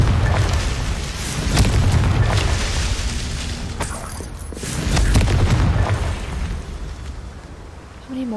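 Confringo spell blasting glowing orbs in the Hogwarts Legacy video game: two loud, rumbling booming bursts with a deep low roar, each swelling and fading over a couple of seconds, with a brief quieter gap between them.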